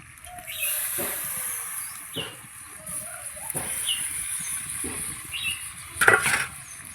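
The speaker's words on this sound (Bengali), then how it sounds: "সোয়াবিন দিয়ে ভালো করে এবার আলু মশলার সঙ্গে কষিয়ে নেব।" Soybean chunks and potato are stir-fried in oily spice paste in a pan, giving a soft continuous sizzle and hiss broken by repeated scraping, clinking stirring strokes about once a second, with no talking.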